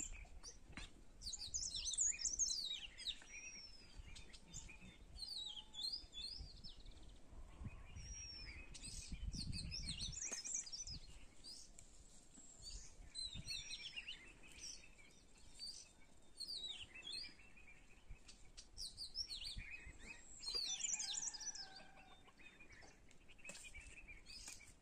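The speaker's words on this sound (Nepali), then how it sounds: "कति राम्रो बासिरहेको छ यो चरा" A bird sings in a rural village farm setting, with repeated bright chirps and trills in a steady run, faint and somewhat distant over quiet outdoor background noise.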